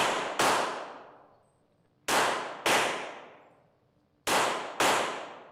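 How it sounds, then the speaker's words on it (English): Handgun shots fired in controlled pairs at a paper target on a range: two pairs of sharp, loud cracks, each pair a fraction of a second apart, with ringing decay between pairs. "Once again, shooting controlled pairs."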